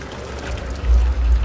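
Water flows steadily through a flooded area in the horror video game Amnesia: The Dark Descent, a low, continuous rushing that swells slightly toward the end, with no talking.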